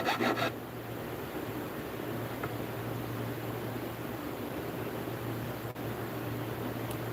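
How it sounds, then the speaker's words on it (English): A Shinto rasp files across wood in a steady, continuous scraping rub, close and even throughout, with a faint low hum beneath and no talking. "The hacksaw blade file I spoke of is a Shinto rasp."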